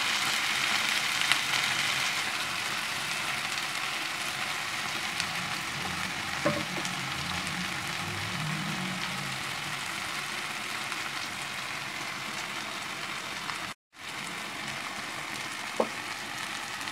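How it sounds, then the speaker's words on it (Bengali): Tomato and green chilli fry in a pan with a loud, steady sizzle that runs throughout, marked by an occasional faint stirring scrape. "এখন টমেটো আমি এখন আপনি সাইডে ফ্রাই করে নেব"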